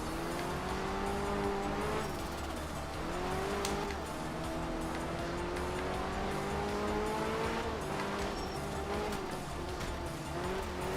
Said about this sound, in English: Very stable car.